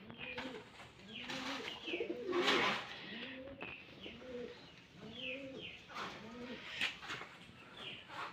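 Giribaz pigeons in a loft giving repeated soft, throaty coos in rolling phrases, close and overlapping, with faint chirps and quiet background talk.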